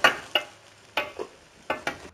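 Tomatoes being ground for a Lenten cazón salsa, a series of short, sharp, wet grinding strokes in an uneven rhythm, close and fairly loud, with no voices.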